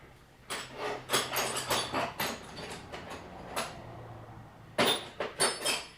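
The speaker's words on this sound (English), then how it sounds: "just gonna hammer these strut mounting bolts off" Quiet, muffled hammer taps on the strut mounting bolts of a 2012 Ford Explorer in quick bursts, separated by short pauses, heard from some distance.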